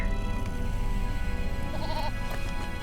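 A goat mount in the Lord of the Rings Online video game lets out a single wavering bleat partway through, set over a steady bed of game ambience.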